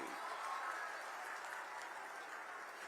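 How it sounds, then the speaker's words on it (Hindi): An audience at a government ceremony with a chief minister in Ambedkar Nagar claps in steady, dense applause, a continuous crackle of many hands heard from some distance, fairly soft and unbroken. "तालियां बजाएं अंबेडकर वासी।"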